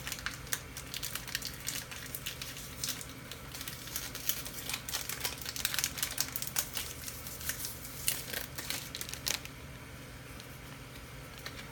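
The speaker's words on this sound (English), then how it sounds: "then we'll open a new pack" A foil pack of 1991-92 football trading cards is torn open and handled, giving continuous close crinkling and rustling with irregular sharp crackles that fade out toward the end.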